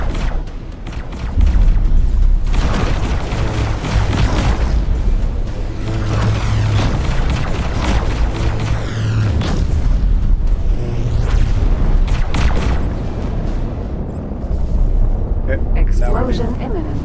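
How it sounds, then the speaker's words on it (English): Explosions and heavy booms in the space game X4 Foundations, with sustained loud rumbling and low-frequency blasts through the whole stretch and a person talking over it. "Explosion imminent. Need to get the heck away from it."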